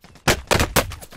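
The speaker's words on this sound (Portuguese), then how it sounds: "Você que tá atirando?" Three loud, close gunshots from a first-person shooter game, spaced about a quarter second apart, each ringing out briefly over a quiet background.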